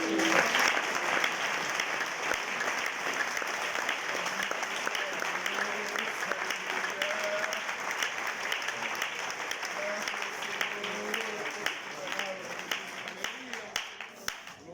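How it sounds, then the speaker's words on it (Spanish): Church congregation breaking into loud sustained applause during a sermon, a steady wash of many hands clapping throughout, with faint voices underneath. "Ese aplauso fuerte de Dios."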